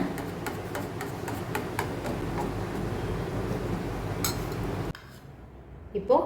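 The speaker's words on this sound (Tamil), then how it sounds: "இந்த பால் பவுடர் வந்து கட்டி சேராமல் நல்லா கலக்கி எடுத்துக்கோங்க" Spoon stirring milk powder into a homemade soap mixture in a bowl, with rapid repeated scraping and clinking strokes that stop abruptly, leaving quieter handling noises.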